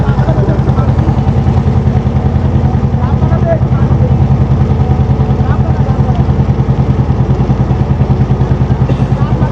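A trawler's engine runs steadily while the boat heads out to sea off the Bangladesh coast, a loud close rhythmic diesel chug throbbing evenly throughout without pause.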